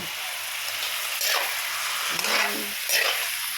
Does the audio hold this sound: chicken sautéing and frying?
yes